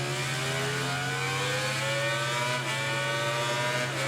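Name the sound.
motorcycle engine in a racing video game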